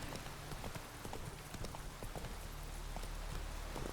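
Horse hooves clip-clop steadily on the ground in The Witcher 3, a quick repeating rhythm of close hoofbeats heard alone over a constant hiss of rain.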